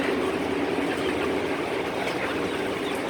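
A motor runs a chain feeder in a Korean chicken house, a continuous mechanical rattle and clatter with a steady drone, heard close and unbroken throughout, no talking.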